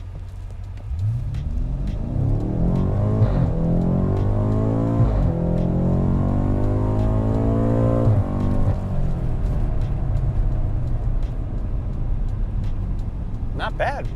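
A 2018 BMW M5 Performance in Sport Plus manual mode accelerates hard. The loud engine note climbs steadily, with brief dips at each of several gear shifts, and the pulls are heard from close by.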